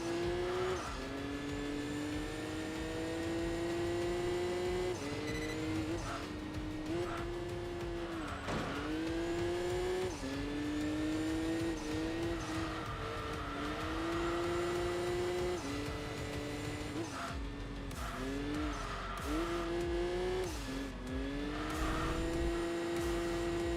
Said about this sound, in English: Hearing the kind of reverberation of the exhaust notes